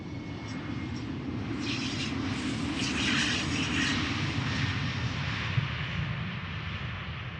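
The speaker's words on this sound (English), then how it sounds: "taking off in front of it is an Embraer 190 going to Billund" A KLM Embraer 190 taking off at Amsterdam Schiphol, a continuous loud jet roar with a deep rumble that swells slightly midway and holds steady, no voices.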